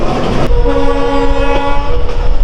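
A train rumbles past close by on a hill route, with a long steady horn blast sounding over the rolling clatter of the wheels.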